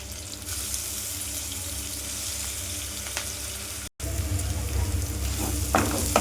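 Green chillies, curry leaves, ginger and garlic paste fry in hot oil with a loud, steady sizzle, cut by a brief gap and followed by a few stirring scrapes.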